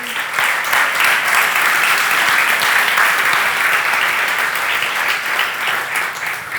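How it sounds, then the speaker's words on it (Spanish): Church congregation applauding the Lord during a Spanish-language sermon, a steady, dense wash of many hands clapping that holds loud and even throughout. "Dale un aplauso al Señor."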